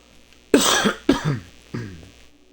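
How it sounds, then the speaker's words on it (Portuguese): Three harsh coughs from a man with a cold, close to the microphone, the first two quick and strong, the third weaker after a short pause. "Desculpa a tosse"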